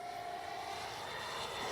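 A Freewing 80mm Avanti S V2 RC jet flies overhead with a steady, even whining roar that swells slightly toward the end. No voices are heard.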